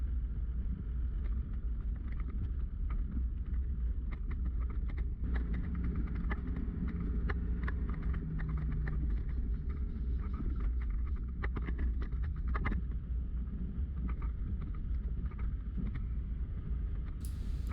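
Vehicle driving along the Nicholson Track, a steady low rumble of engine and tyres on a rough bush track with scattered knocks and rattles, continuous and moderately loud without talk.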